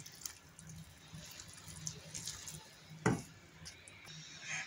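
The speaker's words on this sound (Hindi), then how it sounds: "अब इसमें हम जो चीनी का पानी तैयार किया था ना, वो पानी डाल देंगे।" Sugar water poured over freshly steamed dhokla in a plate, giving soft wet drips and light splashes that rise briefly to a louder splash near the end, fairly close and quiet with no talk.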